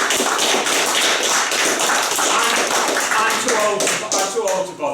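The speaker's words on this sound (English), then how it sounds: "These are 3 people I think you ought to give a round of applause." Audience at a campaign talk breaks into a steady round of dense, continuous clapping, loud and close, fading slightly at the very end.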